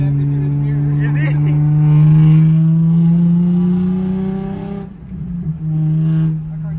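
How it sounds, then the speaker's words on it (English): A Nissan 350Z engine with a slipping clutch revs close by, a loud droning tone climbing steadily in pitch for several seconds, then dropping and settling back, with people talking over it. "That car sounds like shit."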